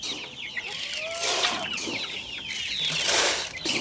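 Chickens cluck and squawk at feeding time on a small farm, with a brief flutter of wings. The birds sound close and busy, with no talk over them.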